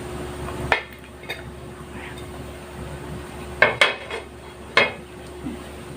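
A few sharp metallic clinks and taps as a lid settles onto a pot of cooking ginataang pakbet, spaced out over steady low background hum.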